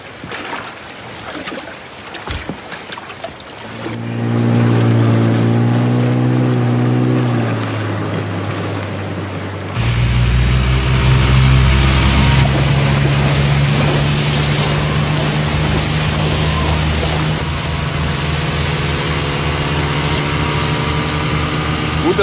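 An inflatable boat's outboard motor starts up and drones loudly on a shallow river, a steady engine hum that shifts pitch as it revs, with water splashing and brief voices early on.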